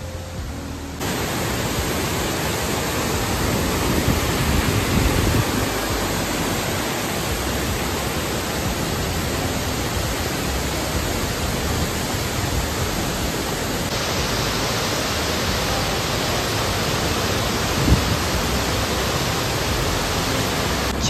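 Waterfall water flowing onward as a river at Dudhivre near Pavana Nagar in Maval, a loud, dense, unbroken rushing roar that stays constant throughout, with no voices.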